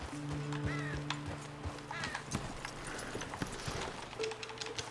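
Horse hooves clip-clop in Red Dead Redemption 2, faint and steady, mixed with ambient game sounds, a brief whinny-like tone and scattered background noise.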